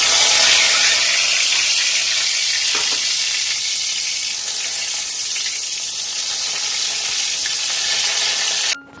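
Pointed gourd (potol) frying in hot oil in a home kitchen, giving a loud, steady sizzle that holds for about nine seconds before cutting off abruptly.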